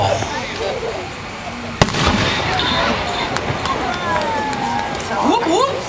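Fireworks display shell, a brocade crown with a red pistil, booming once sharply and then crackling with a long sparkling tail; crowd voices and whistles are heard around it.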